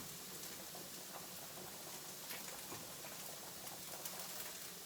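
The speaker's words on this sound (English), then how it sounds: "You want to be keeping an eye on your green peppers that are boiling" Green peppers boiling in a pot of water, a steady faint bubbling and soft patter throughout with no voices.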